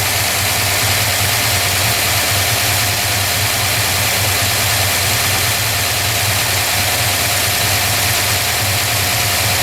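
Car engine fitted with a Holley carburetor idling during adjustment, a loud, steady, close rumble with a constant throbbing vibration and no voices over it.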